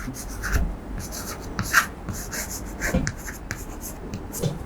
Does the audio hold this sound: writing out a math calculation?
yes